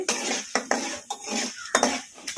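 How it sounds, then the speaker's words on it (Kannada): A spoon scrapes and clinks against a pan while chana dal and urad dal fry over a medium flame with mustard seeds and cumin, the strokes coming in a quick irregular rhythm beneath a steady sizzle. "ಕಡಲೆಬೇಳೆ ಉದ್ದಿನಬೇಳೆ ಒಂದು ಸ್ವಲ್ಪ ಫ್ರೈ ಆಗೋವರೆಗೂ ಕಲಿಸ್ಕೊಂಡ್ಬಿಡೋಣ ಮೀಡಿಯಮ್ ಫ್ಲೇಮಲ್ಲಿ"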